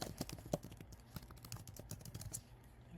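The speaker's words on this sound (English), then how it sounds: "here we're going to type in the URL" Rapid clicking keystrokes on a computer keyboard as a web address is typed in, a steady patter of close, crisp taps with no talking.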